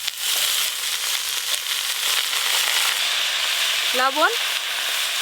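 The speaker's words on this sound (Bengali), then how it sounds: "এবার কেটে ধুয়ে রাখা পিং শাকগুলো দিয়ে দেব।" Washed, chopped greens added to frying vegetables in a pan, a dense loud crackling sizzle throughout, with a short voice heard briefly near the end.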